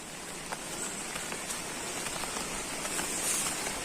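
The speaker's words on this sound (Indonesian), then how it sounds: "Suasana hujan seperti ini." Steady rain falls over an Indonesian hillside village, a dense even patter with a few sharper drops close by, heard alone with no voices.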